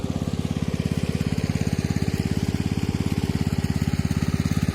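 A closed-system centrifugal water pump draws groundwater from a four-inch well bored about 32 metres deep, its engine running with a steady, loud, rapid pulsing drone throughout, close by and alone with no talk.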